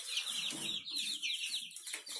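Chickens, including a feathered-legged Brahma, clucking nearby in a yard: a dense chorus of soft overlapping clucks and murmurs under steady higher-pitched chirping, with no talk.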